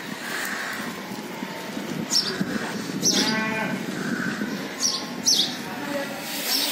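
Goats, including young kids just brought in, resting at the Deonar livestock market, with bleats and animal calls over a steady crowded market din.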